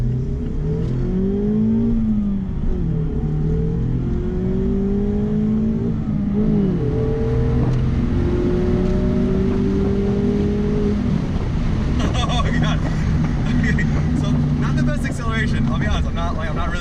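A 2019 Mazda MX-5 Miata accelerates on the Pacific Coast Highway, its engine note climbing through the gears with rising whines and shift breaks, heard loud from inside the cabin under steady road and wind noise.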